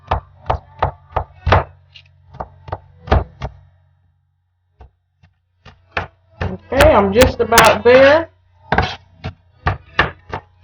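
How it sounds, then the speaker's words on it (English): Kitchen knife chopping onions finely on a board for meatloaf, a run of sharp, evenly spaced knocks, a pause, then more chopping and a short burst of quicker taps, with brief speech in between. "I like them finely chopped."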